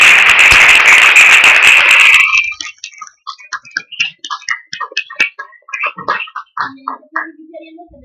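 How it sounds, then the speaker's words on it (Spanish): A burst of applause from a crowd lasts about two seconds, then cuts to scattered clicks and small taps that continue sparsely. "les pediría que les diéramos un aplauso como en agradecimiento"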